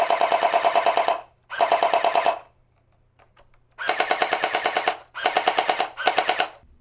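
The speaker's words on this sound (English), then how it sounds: "And in full auto, it should shoot like 10 shots per second." A Nerf GelFire Mythic gel blaster firing in full auto, with loud bursts of rapid, evenly spaced mechanical shots at roughly ten per second. Several bursts of about a second each are separated by brief pauses, with no talking.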